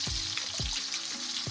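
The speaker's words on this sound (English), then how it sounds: "now I'm just going to drop in the eggs" Eggs fry in a pan with rice, onions and chilies, a constant bright sizzling hiss broken by a few soft low thumps at regular intervals.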